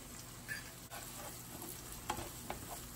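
Chopped shallots with ginger-garlic paste sautéing in a pan for a Kerala fish roast, a steady low sizzle with a few soft scrapes of stirring, fairly quiet and close, no voices.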